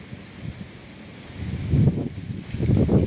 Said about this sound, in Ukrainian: Тільки ж вітер страшний, чого він такий знявся